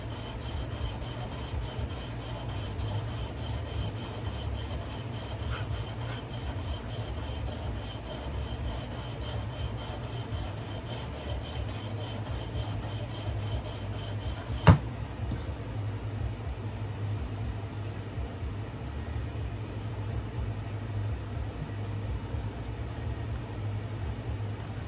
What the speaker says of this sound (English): I use every bit of my sandpaper